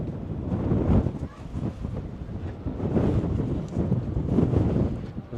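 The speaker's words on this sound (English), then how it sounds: "Very windy up here on the top of the hill." Strong wind blows across an open hilltop and buffets the microphone with a steady, loud roar that swells and dips in gusts. No voices are heard.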